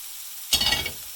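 Paneer cubes dropped into a hot pan with olive oil for saag paneer, with greens and charred bits on the bottom: after a brief quiet moment, a sudden loud sizzle flares up and keeps crackling to the end.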